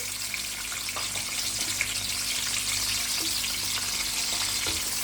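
Two small tomatoes and garlic cloves frying in hot oil make an even, continuous sizzle with faint pops, close and steady over a low electrical hum.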